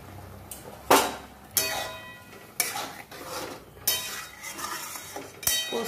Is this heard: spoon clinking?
yes